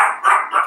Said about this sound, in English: That's my dog. He heard a car horn outside